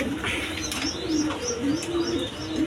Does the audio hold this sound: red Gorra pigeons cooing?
yes